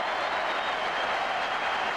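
A packed Yankee Stadium crowd at the 1999 World Series Game 3 against the Braves rises to its feet, a steady, dense roar of thousands of voices filling the air without a break.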